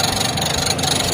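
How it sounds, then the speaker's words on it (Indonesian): A SAP washing machine's spin-dryer motor runs fast and steadily, a continuous droning whir that stays loud and even throughout. "dinamo pengering pada mesin cuci SAP ini sudah berputar dengan bagus"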